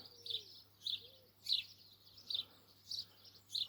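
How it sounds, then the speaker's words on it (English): A large seagull perched on a bungalow roof in town gives a series of sharp, high calls, repeated roughly every half second to second in steady bursts, moderately loud over a low constant hum, with no voices. "It's a big old unit, that seagull."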